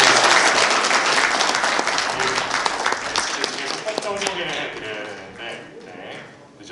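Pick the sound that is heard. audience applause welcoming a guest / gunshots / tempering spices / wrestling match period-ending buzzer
audience applause welcoming a guest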